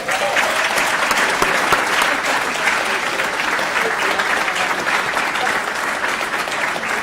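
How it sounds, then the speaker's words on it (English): Sustained, dense applause from an event audience honoring the executive director at a safe sports social evening, steady and full throughout with no break. "So let's give her a round of applause, please."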